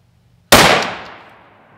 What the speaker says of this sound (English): So we're going to fire this thing at 50 yards.